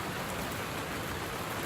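Steady rain falls in a garden, a dense even patter that stays constant and fairly close throughout, with no voices.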